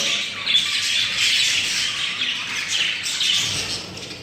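Male budgerigars in a breeding aviary squawk and chirp in a continuous, busy chorus, with shrill overlapping calls at steady volume and no speech.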